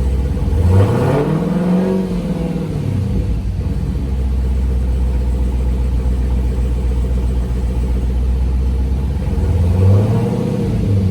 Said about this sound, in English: Vehicle's on. Let's test these RPMs.